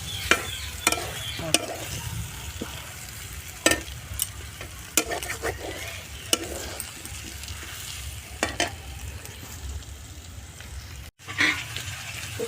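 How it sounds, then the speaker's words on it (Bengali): Jackfruit sautés in a pan with a low steady sizzle, punctuated by sharp scraping stirs of a spatula at irregular intervals, close and fairly quiet, with no voices. "এঁচোড়টাকে দিয়ে আর কিছু একটুখানি কষিয়ে নেবো, হালকা কষিয়ে আর জল দিয়ে দেবো।"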